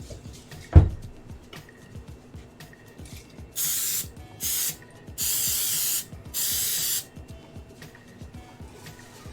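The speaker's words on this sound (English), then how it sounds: "Spray them with some olive oil spray." Olive oil cooking spray hisses onto a grill in four bursts, two short and two longer, after a sharp click, with low background noise between sprays.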